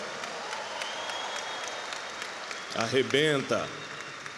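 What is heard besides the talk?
audience applause for the translator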